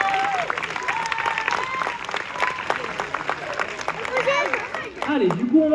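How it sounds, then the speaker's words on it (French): An audience claps loudly for Cléo the sea lion at a zoo show, a dense patter of applause that lasts the whole stretch, while an announcer talks over it on a microphone. "Et elle aussi, on peut l'applaudir bien fort à la jolie Cléo."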